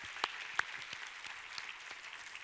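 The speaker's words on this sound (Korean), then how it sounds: "우리 하나님께 감사와 영광의 박수 올려드리겠습니다." Faint, distant congregation applause in a church service, a thin steady patter of scattered clapping with a couple of sharper nearby claps standing out early on.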